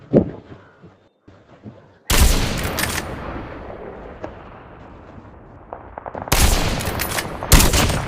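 Sniper gunfire in Call of Duty Mobile: a few faint shots, then sharp loud cracks with ringing, rumbling tails, plus a later pair of close blasts.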